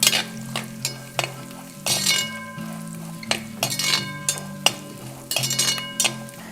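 Kerala-style beef fry with coconut pieces stirred in a sizzling pan, spatula scrapes and clinks against the metal in repeated strokes over a steady frying hiss, close up with no talk.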